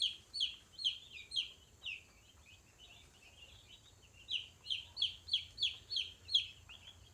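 Baby chicks in an indoor brooder cluck in quick bursts, with a busy run early on, a quieter stretch in the middle, and another lively series toward the end.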